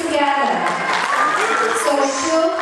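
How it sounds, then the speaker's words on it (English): Applause from the audience at a 2018 school annual function, a dense wash of clapping under children's voices and chatter throughout. "can I have a huge round of applause for Shubh Thakur?"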